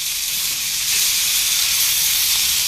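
Beef and sausages cook on a yakitori grill, giving a loud, close, continuous hiss that stays steady from start to finish.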